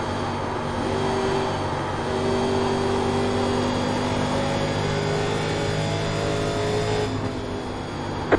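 1987 NASCAR Legends race cars lapping Indianapolis in iRacing, a loud, steady engine drone with sustained high-revving tones holding throughout.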